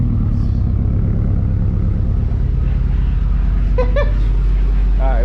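A 2018 Subaru STI fitted with a Tomei exhaust rumbles loudly and steadily up close, its deep engine drone filling the whole stretch, with a brief rising whine near the end and voices mixed in.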